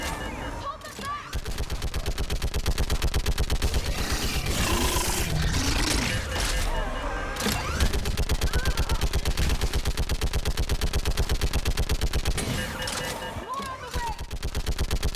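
Sustained automatic gunfire in the Mass Effect 3 shooter game, rapid loud rattling bursts nearly nonstop with brief gaps, while a voice shouts orders over the shooting.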